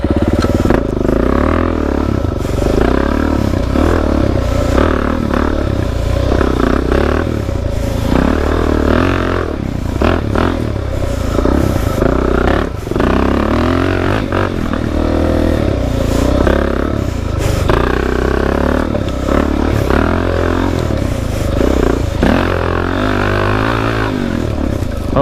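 A Suzuki DRZ dirt bike rides hard along a trail, its engine loud and continuous, rising and falling with throttle changes, mixed with clattering and scraping from the rough ground.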